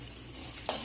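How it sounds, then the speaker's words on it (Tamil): Urad dal fries in hot oil in a pan with a soft, steady sizzle, broken by one brief stirring scrape near the end, quiet and close. "உளுத்தம்பருப்பு கொஞ்சம் சிகப்பாகட்டும்"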